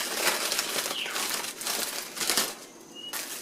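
Aluminum foil crinkling and crumpling as BBQ ribs are unwrapped from a foil pan, close and fairly quiet, with a continuous rustle and sharper crackles.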